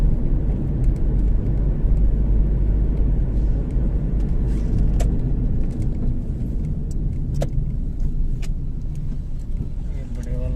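A trailer truck passes on a Delhi road, heard from inside a moving vehicle in the morning. Heavy low engine rumble swells close by for several seconds, then eases under steady road noise with small rattles.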